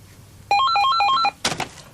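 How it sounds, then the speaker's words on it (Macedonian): A telephone ring tone from a Macedonian TV drama set indoors: a loud electronic warble of rapidly alternating pitches plays one burst, then stops, followed by a short noisy clatter. "Телефонот ќе звони тогаш кога ќе треба да звони."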